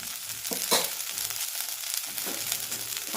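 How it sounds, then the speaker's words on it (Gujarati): Ridge gourd peel and fresh coriander cook gently on a low gas flame, giving a soft, steady sizzle with a few brief stirring scrapes, close by and alone. "આપણે દસ મિનિટ ધીમા ગેસ ઉપર ચડવા દેશું"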